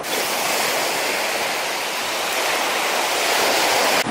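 Steady roar of ocean surf breaking on a black sand beach along the Road to Hana, Maui, loud and continuous with no voices over it.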